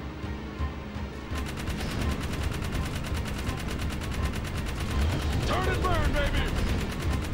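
Rapid gunfire from the video game Jak 3, a steady crackling stream of shots running throughout under game music and a player's excited speech.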